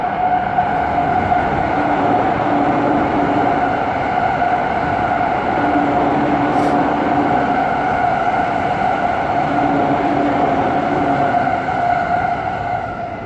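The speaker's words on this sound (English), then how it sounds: "Oh, more trains, it's getting noisy." Loud, continuous rumble and rolling hum of trains passing close by in the Yanaka Ginza and Ameya Yokocho area, sustained throughout with a steady mechanical drone and no talking.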